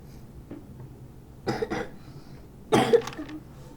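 A person with a cold coughs, two short bursts of close, dry coughing about a second apart over soft background noise.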